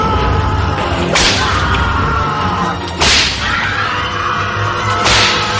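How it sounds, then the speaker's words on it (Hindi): A whip cracks inside a prison cell in a horror story, three sharp lashes spaced about two seconds apart, loud and close over a dark rumbling ambience. "सेल के अंदर एक चाबुक चलने की आवाज हुई"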